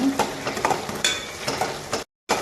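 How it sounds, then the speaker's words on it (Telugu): A pan of dry prawn and sorrel leaf curry being stirred over heat, with a soft sizzle and scraping spoon strokes that continue steadily, then a brief gap. "గోంగూర ఉడికేటప్పుడు ఒకసారి కూరను మొత్తాన్ని ఒక్కసారి కలుపుకుందామండి ఈ విధంగాను"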